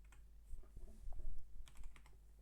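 Quiet, close computer keyboard typing in a few short clusters of key clicks, soft and intermittent with no talking.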